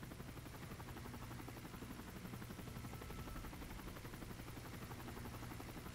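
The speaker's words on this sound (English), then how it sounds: "Let's just let this helicopter pass." A helicopter passes overhead in the snowy Call of Duty: Modern Warfare 3 Spec Ops mission, its rotor beat a steady, faint, dense whir with no talk.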